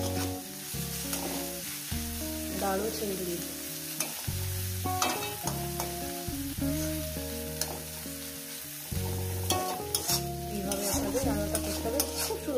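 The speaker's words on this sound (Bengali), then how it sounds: "দিয়ে এটাকে ভালো করে এভাবে একটু ভাজা ভাজা করতে হবে" Shrimp frying in a pan with greens, garlic, onion, turmeric and green and dried chillies while being stirred, a low sizzle with scraping strokes under louder tuneful background music and a brief spoken voice.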